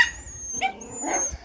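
A dog in a kennel with her puppies gives short whimpering yips and a soft bark, close and brief.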